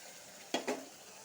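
Ginger, garlic, onion and cumin pastes are tipped into hot oil for a mushroom curry, giving two quick close splashes and a brief sizzle before a low steady hiss.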